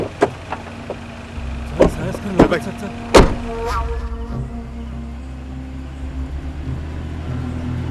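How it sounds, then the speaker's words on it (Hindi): Car door thumps and clicks in a quick series, then an engine starts and idles with a low steady rumble as the vehicle prepares to pull away. "मैं गाड़ी चलाता हूँ"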